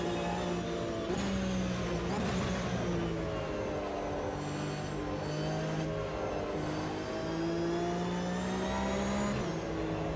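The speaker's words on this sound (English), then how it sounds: "Straight into the sound of a Porsche Flat 6." Porsche flat-six engine in the racing game Automobilista 2, revving loud and continuous through rising gears with smooth upshifts, steady and close with no talk.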